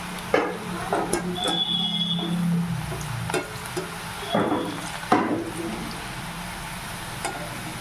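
Homemade french fries frying in hot oil as a utensil turns them, with soft bubbling under a series of sharp scraping clinks spread across the clip.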